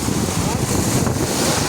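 Strong wind and rough sea waves buffet a fishing boat, a loud roaring rush with heavy wind noise across the microphone, brief and close, with a voice faintly mixed in.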